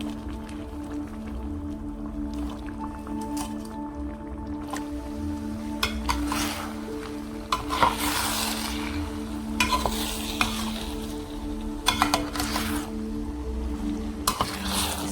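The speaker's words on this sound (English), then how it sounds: "So I'm going ahead now and stir everything." Black-eyed beans with fish stirred in a cooking pot, a steady low sizzle under repeated scraping and stirring strokes, close and moderately loud, with no talking.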